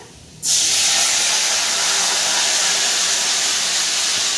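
Leafy greens hit hot oil already seasoned with dried red chilli, nigella seeds and fried garlic, setting off a sudden loud, steady sizzle that holds at full strength without any talking.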